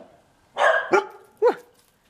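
A dog lets out three loud, close barks in quick succession, and the clip is otherwise quiet.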